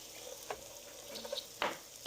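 Onions sautéing in a pan give a soft, steady sizzle with a few faint clicks and stir sounds, quiet and close, with no talk.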